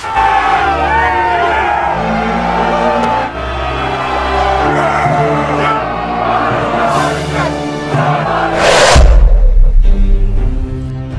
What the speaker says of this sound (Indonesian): Rekan-rekan dari Spartacus pun lantas bersorak-sorak, sembari menyebut nama Spartacus